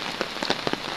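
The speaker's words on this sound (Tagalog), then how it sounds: "So palakas ng ulan" Heavy storm rain pours outdoors in a dense, steady hiss, with a few sharper drops pattering close by and no voices.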